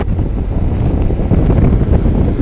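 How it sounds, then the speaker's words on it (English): Strong wind on a ridge road in the Peak District buffets the microphone on a Honda Solo Custom motorcycle ride, a continuous loud rumbling roar without pauses. "and a bit windy up here"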